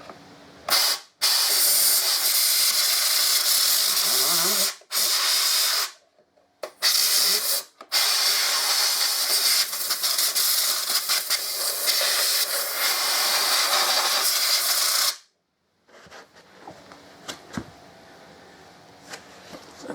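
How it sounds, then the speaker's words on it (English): Compressed air blasts loudly through the radiator of a 2014 Harley-Davidson Electra Glide, coming as long sustained hissing bursts with brief gaps, then stopping to leave faint clicks and handling noise. "All I'm going to do is blow air in to try and blow anything that's in the radiator out"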